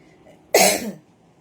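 A single short, loud, close cough, a harsh burst lasting about half a second against a quiet background.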